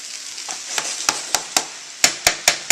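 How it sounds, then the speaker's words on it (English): A very full large pan of turkey hash crackles softly while a run of sharp, evenly spaced clicks and taps sounds close by. "I will put the lid back on and let everything cook for about 5 more minutes."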